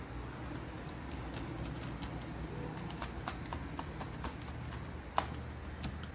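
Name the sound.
typing a password on a keyboard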